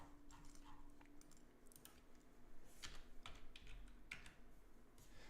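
Computer keyboard typing, quiet scattered keystrokes at an uneven pace over a faint background hum, with no talk.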